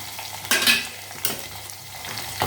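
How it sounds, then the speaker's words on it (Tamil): Crushed garlic fries in hot oil in a pan. A close, steady sizzle is broken by two sharp bursts of stirring, and a smaller scrape comes near the end. "பூண்டு அப்படி எண்ணெயில் போட்டு வதக்கினீங்கன்னா நல்ல வாசனை வரும்"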